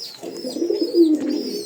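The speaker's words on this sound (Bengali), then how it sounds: "আজকে আমাদের এই কবুতরটা ডাক দেখাবো আপনাদের। এই দেখেন, সুন্দর করে ডাকে, শরীর ফুলিয়ে ডাকে।" A pet pigeon puffing up its body as it coos, a single close, soft, low throaty coo rolling through a short phrase, alone with no talk.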